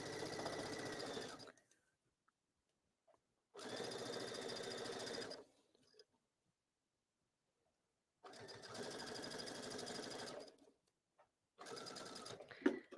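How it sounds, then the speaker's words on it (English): A domestic sewing machine stitches a mesh beach bag onto bias binding in several loud, steady whirring bursts separated by silent pauses, close up with no talking. "So I'm stitching this right to the bias binding."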